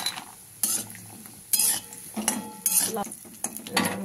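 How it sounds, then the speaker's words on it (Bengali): Lentil dumplings fry in hot white oil in a wok for shukto, with a low sizzle. A spatula scrapes and clanks against the metal in four or five sharp, evenly spaced bursts, close by, with no talking. "তেল গরম হয়ে গেছে, আমি দিয়ে দিলাম বড়িটা"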